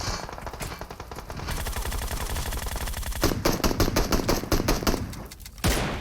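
Rapid bursts of automatic gunfire from the PUBG Mobile battle royale game, loud and close, with sustained volleys and sharp repeated shots breaking off and resuming.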